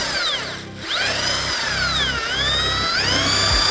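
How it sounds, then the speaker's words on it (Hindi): A power drill spins a brush in place of its bit inside a bucket of potatoes and water, a loud, close whirring that rises and falls in pitch over several short bursts, with no talking. "ड्रिल में जो बिट है उसकी जगह ब्रश घूम रही है।"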